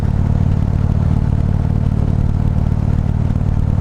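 Harley-Davidson Street Glide engine while riding behind a fairing, a loud steady low rumble with road and wind noise that stays constant throughout, with no talk.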